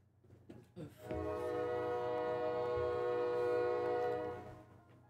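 A train horn in the video game The House in Fata Morgana sounds one long, steady, loud blast that holds for about three seconds before fading, with a few brief noises just before it.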